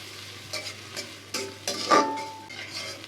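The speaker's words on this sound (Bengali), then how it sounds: "পেঁয়াজ গরম মশলা একসাথে ভেজে নেব" Onions and garam masala frying together in oil in a pan, with steady sizzling broken by several stirring scrapes and clatters, close and moderately loud, no talking.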